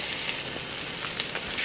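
Low-fat meat sizzles steadily in hot melted coconut oil in a pan, a loud, continuous hiss and crackle with no talk.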